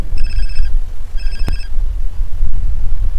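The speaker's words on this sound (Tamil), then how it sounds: "phone is ring ring" A GTA San Andreas phone rings with two short electronic trilling bursts, loud and close over a low rumbling game background, followed by a sharp click; no speech.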